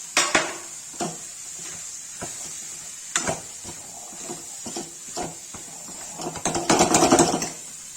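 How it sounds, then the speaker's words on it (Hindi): Paneer frying in onion puree in a pan while paneer bhurji is made, a steady close hiss of sizzling under repeated clinks and scrapes of a spatula against the pan, swelling into a louder burst of stirring near the end. "पनीर भून रहा है।"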